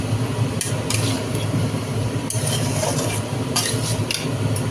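A utensil stirs potato curry in a pan for a luchi meal, with soft scraping and a few sharp metallic clinks against the pan over a constant low background hum.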